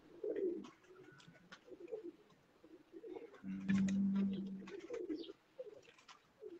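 Pure black-faced Sialkoti pigeons coo faintly nearby, with one longer, fuller coo in the middle and softer calls around it.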